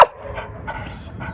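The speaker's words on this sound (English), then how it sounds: "You want to keep the dog quiet" A single sharp dog bark at the start, followed by soft whimpering or whining from an excited dog, close by and brief.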